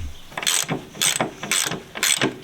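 Ratchet working loose the anti-roll bar bolts under the front of an MGB, with four quick bursts of clicking pawl strokes at a steady rhythm, close and fairly loud, no talk.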